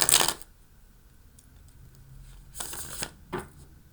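Tarot cards shuffled by hand, with a short burst of riffling at the start and two more quick shuffles later, separated by near silence.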